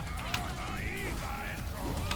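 Squawking, honking fowl-like calls from a chicken in a video game, a few wavering cries over a steady background of game noise, moderately loud, with no speech.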